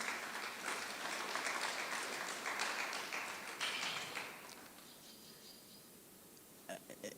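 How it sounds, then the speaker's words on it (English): A graduation audience at Letaba TVET College claps for the team, a dense, steady applause that tapers off to scattered claps and faint chirping near the end. "Can we clap hands for the team,"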